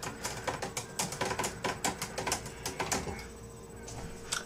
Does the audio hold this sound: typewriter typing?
yes